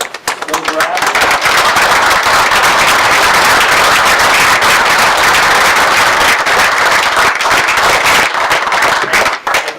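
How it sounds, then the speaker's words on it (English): Audience at a borough council meeting applauding, dense sustained clapping that starts abruptly, holds loudly for several seconds and tapers off at the end. "And one final round of applause"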